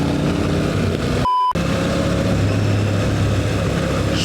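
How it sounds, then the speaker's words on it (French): Loud motorcycle engine roaring steadily during a group ride on the road, a constant heavy drone with wind rush that cuts out for a moment and then returns. "sa moto elle fait du boucan là-haut"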